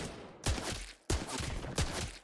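Three heavy gunshot blasts from a hero in the Mobile Legends video game ring out about half a second apart, each loud and punchy with a short booming tail, and no speech between them.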